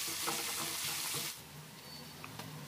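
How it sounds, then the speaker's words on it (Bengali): Chopped onion and cumin sizzle in hot oil while being stirred, with a loud steady crackle and scraping stirs up front that ease into a softer, quieter fry. "তো এটাকে হালকা নাড়াচাড়া করে পেঁয়াজটা ভেজে নিতে হবে"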